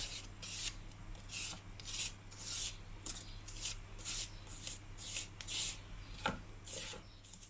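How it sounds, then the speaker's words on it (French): A spatula scrapes around the sides of a Thermomix bowl in a rapid series of short, rhythmic rubbing strokes, quiet and close, over a faint low hum. "on va racler les bords du Thermomix, donc de la paroi du bol"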